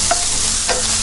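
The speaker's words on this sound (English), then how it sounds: "now we are going to add pancetta to this pan." Diced pancetta hits a pan for spaghetti carbonara, giving a close, steady sizzle of frying fat with a couple of brief scraping stirs on top.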